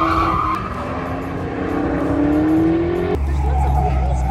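A thrill ride car driven super fast at a Barrett-Jackson collector car auction in Phoenix, Arizona: a loud engine rising in pitch as it accelerates, tires squealing, then a sudden shift to a lower rumble, with crowd noise underneath.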